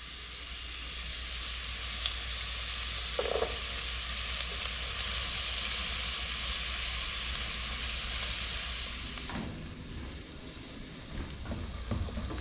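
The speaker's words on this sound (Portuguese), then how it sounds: "refogando aqui as nossas verduras. Aqui tem pimentão, pimentinha de cheiro, tomate, cebola e alho" Bell peppers, small aromatic peppers, tomato, onion and garlic sauté in a pan with a steady, dense sizzle that stays even, broken by a few faint stirring clinks near the end.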